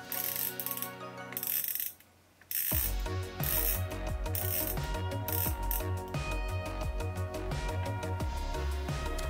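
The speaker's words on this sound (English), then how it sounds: "Now you wind the camera until the film fully covers the spool." A Widelux F6 mechanical panoramic camera is wound, giving close, rapid ratcheting clicks and gear whirs in a quick run after a short pause.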